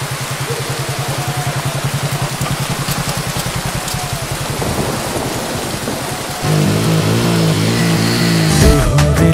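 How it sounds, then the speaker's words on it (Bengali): Heavy rain with thunder at Susunia Hill pours with a rapid pulsing patter, then a louder rumbling roar takes over partway through, close and loud. "এত বৃষ্টি"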